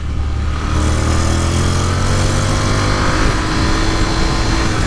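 A Honda DCT motorcycle ridden on the road in sports mode, its buzzy engine droning loud and steady throughout, with low rumbling tones under constant road and wind roar.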